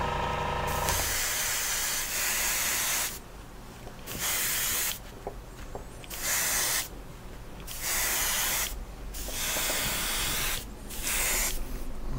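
An airbrush spraying paint onto resin M4A4 Sherman tank models, loud hissing bursts of a few seconds each separated by short quiet pauses, close by and with no talk.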